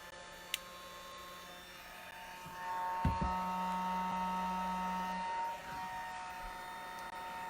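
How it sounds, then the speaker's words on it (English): Crafting heat tool warming up for card making, a faint steady electric hum and whirr that swells after a few seconds and holds, with a small click near the start. "get my heat tool warmed up."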